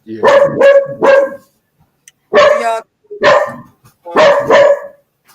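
A dog barks loudly and close in two bursts of rapid, repeated barks with a short gap between them, heard alone without talking.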